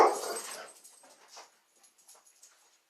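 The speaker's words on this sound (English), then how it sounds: "Sorry that there are dogs barking." Dogs at home, a sharp bark up front, then a few fainter yips and whimpers trailing off into near silence, heard from a short distance with no talking.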